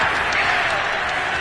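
A crowd cheering a touchdown in the Madden 22 football video game, a steady, loud wash of applause and roaring from a stadium crowd, with speech mixed in.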